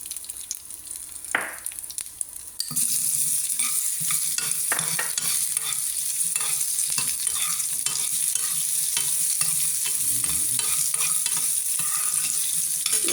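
Green chili and mango dropped into hot oil in a pan for mango chutney, then a steady loud sizzle and frying hiss with repeated scraping stir strokes close by, with no talking.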